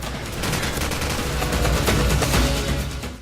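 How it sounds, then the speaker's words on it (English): A squad machine gun fires in Call of Duty 4, a loud, continuous stream of booming automatic shots close up, alone without talk. "Every time you squeeze that trigger, it sounds like a battery of howitzers going off"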